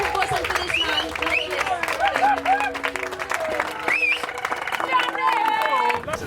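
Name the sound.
audience applause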